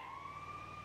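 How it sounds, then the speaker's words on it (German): Ambulance siren in a GTA roleplay game, a faint steady wailing tone with no talking. "Der fährt tatsächlich der Krankenwagen."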